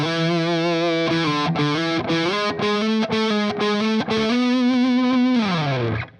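A heavily distorted electric guitar plays a riff with no open E pedal tone beneath it, a loud, thick run of chugging notes that ends in a sliding bend downward, with no voice over it.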